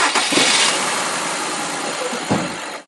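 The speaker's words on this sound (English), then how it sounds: "Now I'm going to start the car." A car engine with a misfire on one cylinder starts and settles into a rough idle, a close broadband roar with a few irregular bumps and a sudden cutoff at the end.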